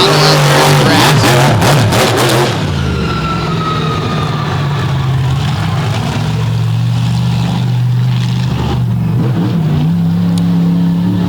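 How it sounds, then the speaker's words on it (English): A big tractor-pulling motor roars loud and close at full throttle, rising in pitch as it accelerates and then holding a steady heavy drone. "Kind of a unique roar that those big pulling motors make, and that right there is all he is just laying on the throttle"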